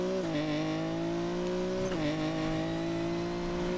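A racing car engine in Need For Speed Payback drones at close range with a steady pitched whine that dips briefly as the gears shift, then climbs again and holds.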